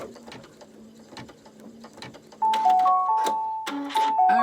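An embroidery machine runs a stitching pass twice around a design outline, starting with soft mechanical ticks and then shifting to a louder, steady whirring hum with repeated clicks, close and alone.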